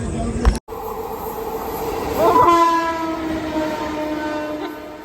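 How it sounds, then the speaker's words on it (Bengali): A train passes nearby on a railway line, its rumble building and its horn sounding with sustained tones, then the noise fades as it moves away. "একটা ট্রেনে আসলো ছুটতে ছুটতে চলে গেল"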